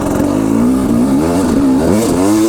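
A KTM 300 Enduro two-stroke dirt bike held in second gear, its engine buzzing loud and close with the pitch wavering up and down as the throttle rises and falls.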